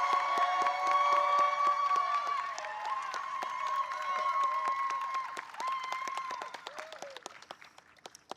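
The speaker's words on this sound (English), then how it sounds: "Let's give Tabitha a loud round of applause." Audience applause with some cheering at a national teachers of the year ceremony, a dense sustained round of clapping that gradually thins out and fades.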